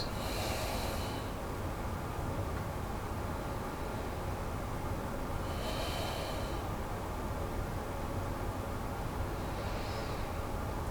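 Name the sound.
breathing out, emptying the lungs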